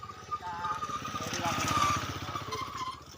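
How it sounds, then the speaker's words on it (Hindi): A motorcycle passing along a dark village road at night, its engine a rhythmic putter that swells as it nears and fades away, with someone talking over it. "इस समय बाइक आ रही है"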